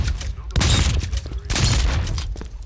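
A silenced shotgun fires in the video game BRINK. Two heavy, booming blasts about a second apart are each followed by rattling mechanical clicks and a short decay.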